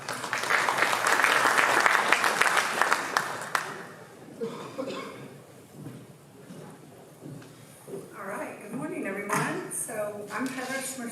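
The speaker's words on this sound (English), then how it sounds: "Let's give her a round of applause." An audience bursts into applause for about four seconds, the clapping dying away into light chatter and room noise.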